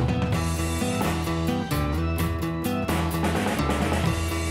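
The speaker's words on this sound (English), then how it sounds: "So the church organ here starts to play in unison with the guitar." Church organ playing in unison with a metal guitar riff, a dense, loud and sustained wall of sound with a steady pulse and no talking.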